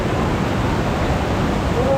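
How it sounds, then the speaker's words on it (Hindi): A fast-flowing stream rushes near a waterfall in Pakistan, a loud, dense, unbroken roar of water that fills the scene. "वाटरफॉल तक पहुंचने के लिए हमें तेज बहाव वाले झरने को क्रॉस करना पड़ता है"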